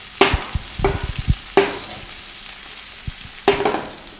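Food sautéing in a hot pan, a close, lively sizzle broken by several sharp utensil strikes and scraping stirs in an uneven rhythm, with no voices.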